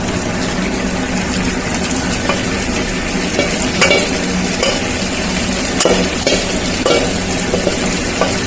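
Vegetables and boiled rice stir-fried together in a pan for a vegetable pulao, giving a steady loud sizzle with scraping and stirring clatter running throughout, no voices.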